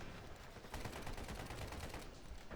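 Video game gunfire, an AKM rifle in a shooter match, cracks out as a fast, dense burst of close, loud shots that runs steadily for a couple of seconds with no talk.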